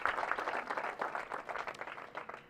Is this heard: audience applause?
yes